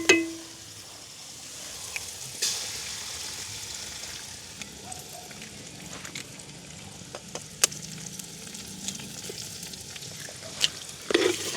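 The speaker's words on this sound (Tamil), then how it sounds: "இப்படி இதை நாங்கள் ஒதுக்கி விட்டுட்டு நடுவில் வந்து முட்டையை சேர்க்க போகிறோம்" Eggs fry in a pan among leeks and carrot for a village-style pittu kottu, a continuous close sizzle broken by scraping stirs and sharp utensil clicks against the pan.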